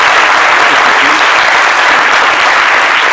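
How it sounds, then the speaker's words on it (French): Loud, dense, continuous applause from an audience for healthcare workers on a midday broadcast, a steady wash of many hands clapping with no pauses. "je pense que c'est le lieu quand même d'applaudir ici le personnel soignant"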